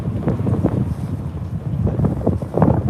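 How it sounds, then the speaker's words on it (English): Wind buffeting outdoors in central Moscow on Christmas Eve, a loud rumbling roar against the microphone that swells and gusts throughout, with no talking. "Oh, the wind's blowing."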